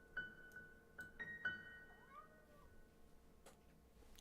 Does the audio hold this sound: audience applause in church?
no